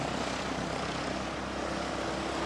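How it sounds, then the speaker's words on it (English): A Cessna Skyhawk SP light propeller plane drones steadily at an airfield runway, a continuous moderately distant engine hum and prop buzz with no voices. "It's a baby prop, that Skyhawk SP coming back again."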